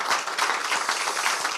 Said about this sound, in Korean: 힘내시라고 박수 한번 주시기 부탁드립니다